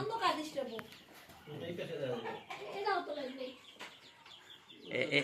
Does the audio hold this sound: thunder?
no